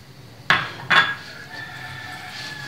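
A spoon or utensil knocking against a bowl while room-temperature butter and sugar are combined for sablé cookies: two clear clinks close together, then a quiet scraping hiss.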